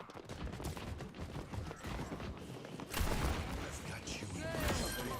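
Gunfire in a competitive first-person shooter match, a dense chaotic mix of shots and impacts that grows louder after a few seconds, with players talking over it.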